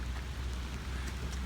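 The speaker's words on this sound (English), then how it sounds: "It's raining, whatever." Rain falls in a steady, soft hiss of drops on surfaces, fairly faint and continuous with no talking.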